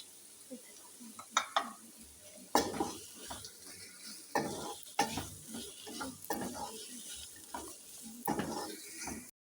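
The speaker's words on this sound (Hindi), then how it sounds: "5 मिनट हो गए हैं गाजरों को फ्राई करते हुए लहसुन अदरक के पेस्ट में।" Carrots fry in ginger garlic paste in a pan while a utensil stirs and scrapes through them, giving irregular clattering knocks over a faint sizzle, close and moderately quiet.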